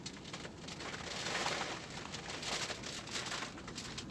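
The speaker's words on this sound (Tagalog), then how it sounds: "Malakas ang hangin, malikabok bumagsak ang ulan" Heavy rain and strong, dusty wind batter a car during a night drive in Riyadh, a dense steady roar of drumming drops and gusts filling the whole span without talking.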